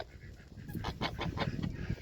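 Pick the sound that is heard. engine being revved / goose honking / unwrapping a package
goose honking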